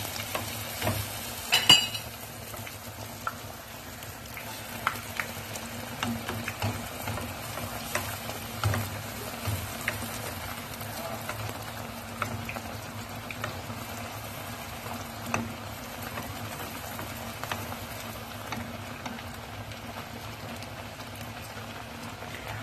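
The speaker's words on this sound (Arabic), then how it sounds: "نكمل نقلي كامل السفنج ديالي" Sfenj doughnuts fry in hot oil with a continuous soft bubbling sizzle and scattered pops. It sounds moderately close and fairly quiet, with no talking.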